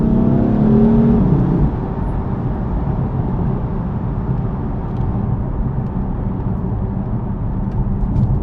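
A BMW M4 Coupe F82 accelerates hard, its engine note rising briefly at first then settling into a loud, continuous roar and whir of road and wind noise from inside the car, with no talking.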